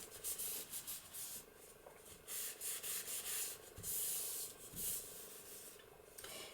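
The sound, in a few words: burnishing down a paper page wrap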